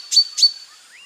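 A cartoon character mimics a bulbul bird call with two quick, high chirps in close succession, clear and near, followed by a faint rising whistle.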